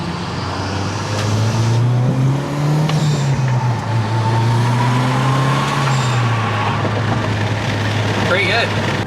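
A Mazda Speed6 engine hums steadily while driving, its pitch rising and falling with throttle, loud and close throughout, with faint road noise and a brief whistle near the end.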